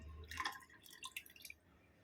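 Grinder rinse water is poured over millet idli batter, giving faint, soft dribbling and dripping splashes that last about two seconds in a quiet room.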